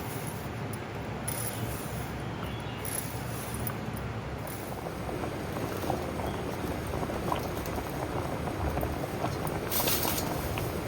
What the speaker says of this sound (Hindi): लौकी इधर उबल रही है